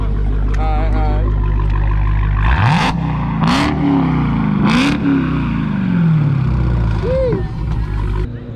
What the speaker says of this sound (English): Oh, you gotta get some revving?